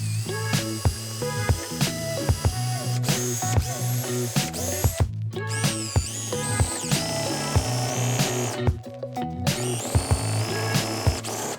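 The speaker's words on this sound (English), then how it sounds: "So we're going to go ahead and drill us some pilot holes." A power drill whines steadily while drilling pilot holes in wood, with repeated short revving bursts and a couple of brief pauses, loud and close.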